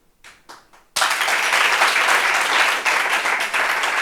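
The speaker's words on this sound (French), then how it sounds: "Est-ce qu'on peut applaudir votre invité, s'il vous plaît" Studio audience bursts into sustained applause for a guest at a French talk-show reunion, dense clapping starting abruptly after a few faint murmurs and continuing loud and steady to the end.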